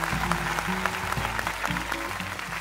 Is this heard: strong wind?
no